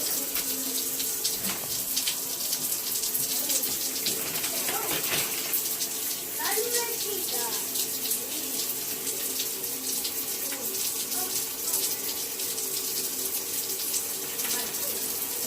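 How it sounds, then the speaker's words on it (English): Steady household water runs continuously from a shower or tap, a broad hiss filling the whole stretch, with faint voices and movement underneath. "I already started to shower"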